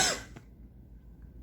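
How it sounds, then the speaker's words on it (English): A single short, dry cough up close, fading quickly into quiet room tone. "Coughing a lot here today."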